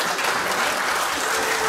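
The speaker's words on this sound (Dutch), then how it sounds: "Applaus voor Sint van Jans." A boxing-event audience breaks into dense, steady applause for a fighter, a continuous wash of many hands clapping with no pauses.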